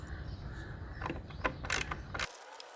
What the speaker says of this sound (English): Then remove the 10mm mounting bolt securing the horn bracket.